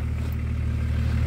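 A running engine hums steadily and loudly up close, a continuous low drone with a faint clatter, alone without talk.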